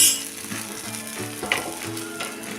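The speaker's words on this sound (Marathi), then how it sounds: "त्याचा झाकून आपण भाजून घेऊया" Rice-flour amboli pancake roasting under a lid on a pan, a steady soft sizzle with faint scraping and clinking, no voices.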